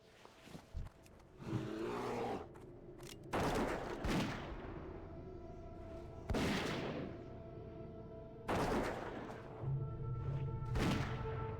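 A hunter fires a gun in World of Warcraft, giving a series of loud, punchy shots at irregular intervals, each with a booming tail that rings on briefly, alongside a steady hum of game sounds and no voices.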